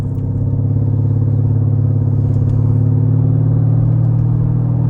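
A 2011 Mercedes SL550 engine with the mufflers cut out for a straight-pipe exhaust, idling or cruising with a deep, steady, loud rumble that holds constant throughout.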